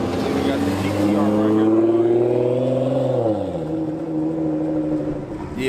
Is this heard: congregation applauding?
no